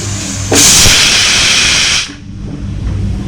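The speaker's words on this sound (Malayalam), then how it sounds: "കുക്കറിൽ നിന്ന് 1 വിസിൽ വന്നിട്ടുണ്ട്." A pressure cooker cooking chickpeas lets out one loud, close hissing whistle of steam that lasts about a second and a half before cutting off, with quiet kitchen background on either side.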